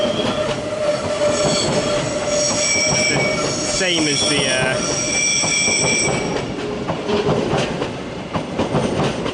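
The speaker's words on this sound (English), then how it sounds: "Meanwhile, here's another Meridian train." A Meridian regional train approaches München Hbf, wheels squealing in sustained high tones over a loud rolling rumble, with someone speaking briefly over it.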